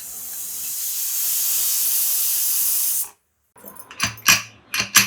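A pressure cooker full of freshly cooked chicken biryani vents steam in a loud, steady hiss for about three seconds, then stops abruptly; after a short silence, a few clattering knocks follow.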